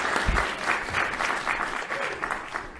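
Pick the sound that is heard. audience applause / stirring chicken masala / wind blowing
audience applause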